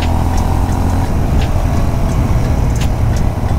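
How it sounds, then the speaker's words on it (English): Honda CB350 RS motorcycle ridden in second gear on a curving road, its engine a steady close rumble with constant wind and road noise, loud and unbroken. "I'm riding on the second gear"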